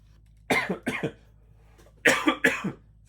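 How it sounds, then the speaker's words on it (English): Four close, forceful coughs in two pairs from someone getting over a lingering cough, each pair a quick double burst with a short quiet gap between, heard alone without talk. "I'm still kind of getting over my cough."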